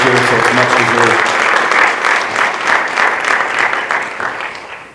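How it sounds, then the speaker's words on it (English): Dense audience applause fills a high school senior awards night, with a voice briefly heard at the start before steady clapping carries on loud and then fades near the end. "If we could give him a round of applause."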